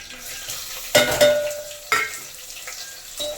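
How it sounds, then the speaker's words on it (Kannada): Sliced onion and curry leaves frying in a pan, a soft steady sizzle broken by three sharp bursts of stirring and scraping against the metal, near and with no one talking. "ನೀಟಾಗಿ ಗೋಲ್ಡನ್ ಬ್ರೌನ್ ಬರೋವರೆಗೂ ಈರುಳ್ಳಿನ ಫ್ರೈ ಮಾಡ್ಕೊಳ್ಳೋಣ"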